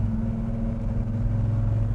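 Steady low engine rumble from a 1966 Pontiac GTO being driven through the gears, heard as a continuous deep drone with faint higher whir, close and moderately loud, no voices.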